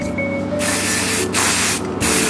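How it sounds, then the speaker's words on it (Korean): Close, loud bursts of hairspray from an aerosol can hissing in three quick blasts, separated by brief pauses, at a hair salon. "이대로 스프레이 뿌려주면 돼요."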